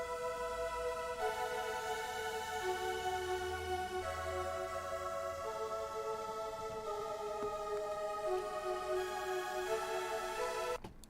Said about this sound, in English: synth pad, which is just nice and airy